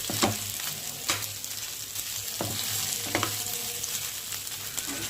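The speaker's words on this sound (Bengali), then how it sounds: "ভেজে নিয়ে তুলে নিয়ে চিংড়ি মাছগুলো দিয়ে দিলাম সেই তেলেই" Shrimp frying in a small amount of oil in a pan, with a continuous close sizzle and crackle plus occasional stirring clinks and scrapes, no voices.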